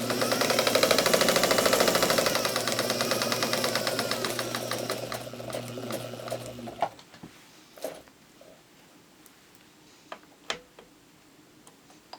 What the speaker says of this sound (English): So let's do that. Oh, still in reverse. There we go.